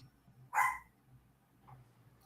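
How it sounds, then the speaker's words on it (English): A single sharp dog bark cuts through the faint room noise, followed by a softer second yelp a moment later. The barking is moderately close and the pet is heard on its own. "That dog is hard headed."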